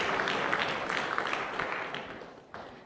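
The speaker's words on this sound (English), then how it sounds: "please give a big applause to David" An audience applauds a speaker at a live-streamed talk, a dense, steady wash of clapping that holds for a couple of seconds and then thins out as it fades.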